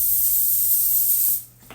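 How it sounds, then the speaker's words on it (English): An aerosol can sprays extra virgin olive oil onto squash in a home kitchen, a single close, loud steady hiss that lasts over a second and then cuts off abruptly. "I'm just going to spray a little bit extra virgin olive oil on it."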